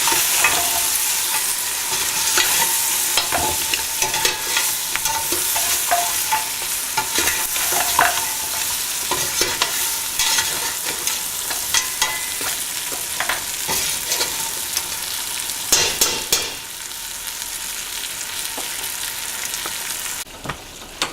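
Meat and spices for rogan josh, flavoured with hing (asafoetida), stirred in a hot pan, a steady close scraping and sizzling that runs throughout with no one speaking.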